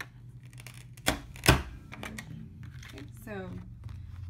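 Hole punch pressing through laminated paper dividers, two sharp loud clunks close together followed by lighter clicks and rustling, with a voice speaking briefly in the background.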